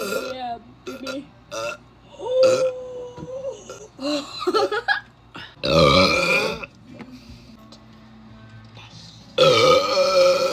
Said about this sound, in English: How do you burp like that?